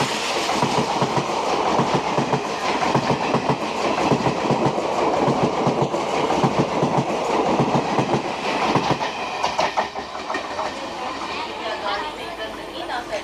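A local train passes Ramnagar station on the Digha–Howrah line with loud, rhythmic clickety-clack of wheels over rail joints. People talk nearby, and the rumble eases toward the end.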